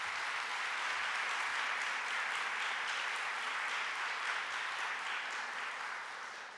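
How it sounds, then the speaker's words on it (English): Sustained audience clapping at a scholarship reception, steady and full for several seconds before easing slightly at the end. "Let's give them a round of applause."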